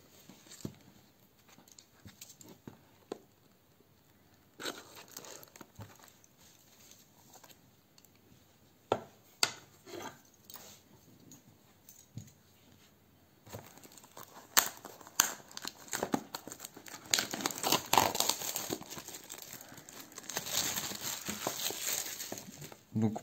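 A sealed display box of Fusion Art trading cards is unwrapped and opened, giving crinkling plastic, tearing and scattered handling taps that are quiet at first and grow louder and denser toward the end, with no talk.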